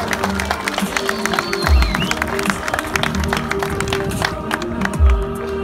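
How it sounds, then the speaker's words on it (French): Crowd applause during a medal ceremony at the French mountain bike championship at Alpe d'Huez, dense steady clapping with scattered sharp claps standing out, loud and close, plus low thumps and background noise. "très très fort les applaudissements"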